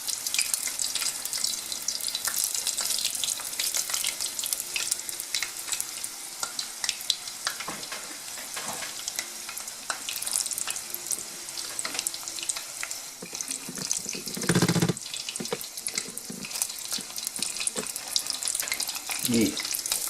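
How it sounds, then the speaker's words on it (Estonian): Chebureki fry in a pan of oil with a steady, dense sizzle and crackle that runs throughout, plus a few louder spits and clatters near the end, with no talk. "lasen tal veel praadida või küpseda õigemini"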